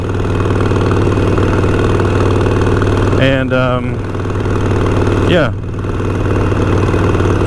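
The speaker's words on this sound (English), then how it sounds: "It's also nice to ride a motorcycle without anything on my back." A motorcycle engine idles loud and close with a steady low throb, briefly revving twice, while a rider talks over it on a Labor Day ride.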